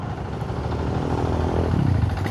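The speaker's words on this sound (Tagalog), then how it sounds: "Motor pala yun." A motorcycle engine idles nearby in heavy traffic near a market in Camarin, Caloocan, a rough, low chugging that rises slightly toward the end amid a clattering street background.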